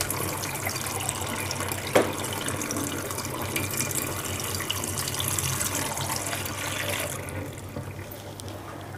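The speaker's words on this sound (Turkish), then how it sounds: "Şimdi bu suyu bir lavaboda bir dökeyim." Yellowed water from a limescale-cleaned kettle pours steadily into a sink, a continuous broadband rush with one small clunk near the start, easing off near the end.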